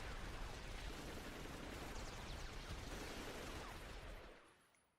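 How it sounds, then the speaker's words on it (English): Dense, sustained gunfire from an anime battle scene rattles on as a faint, continuous hiss-like barrage, then fades out near the end with no voices. "That's a lot of gunfire."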